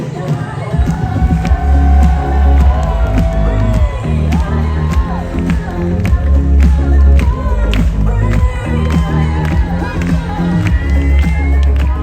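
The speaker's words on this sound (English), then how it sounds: "I got people clapping as Tim and Alyssa walk down those stairs" Wedding guests clap and cheer as the couple walks down the stairs at the Park Hyatt Aviara, steady applause and whoops layered over loud, rhythmic party music throughout.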